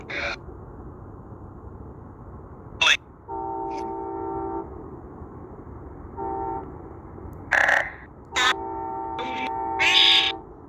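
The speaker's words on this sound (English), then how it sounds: "Here comes another train." A train passes near Blackburn Hill, sounding several long horn blasts at moderate distance, broken by sharp clanks and a few short bursts of noise.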